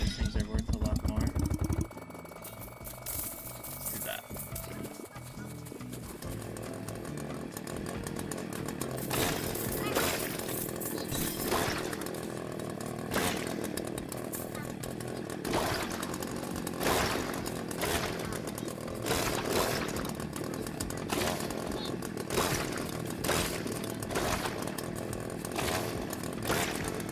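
A chainsaw cuts in the video game Berry Bury Berry, a buzzing motor whine that starts after a brief opening and runs steadily, loud and close, with repeated bursts of bite as it chews through objects.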